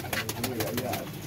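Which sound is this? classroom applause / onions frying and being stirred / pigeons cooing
pigeons cooing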